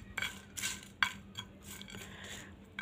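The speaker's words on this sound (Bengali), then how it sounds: "এবার আস্তে আস্তে আমি মশলাটা একটু ভেজে নেব" Spices are dry-roasted for biryani in a dry frying pan over medium-low heat, with soft, intermittent scrapes and light metallic clinks of stirring.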